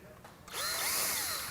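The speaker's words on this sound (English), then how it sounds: "Take the screw and insert it." A power drill drives a screw into a hollow metal door while fitting a panic crash bar, starting with a rising whine about halfway through and holding a loud, steady buzz to the end after a quiet lead-in.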